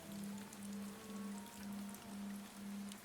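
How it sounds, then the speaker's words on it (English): Soft, steady rain falling on a surface, a constant gentle hiss with a faint low hum pulsing underneath. "the soft sound of rain"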